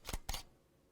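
An SLR camera with a 55 mm lens and image stabilization takes two shots at a slow shutter speed: two close mechanical clacks, each a brief double click, with a short gap between them, then quiet.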